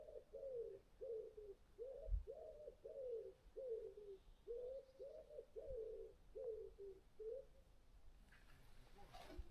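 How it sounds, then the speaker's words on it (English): A bird coos softly in the Finnish countryside, a repeated series of about a dozen short, evenly spaced hoots, faint and somewhat distant, with no one talking. "I think that could be an owl maybe. Some bird noises."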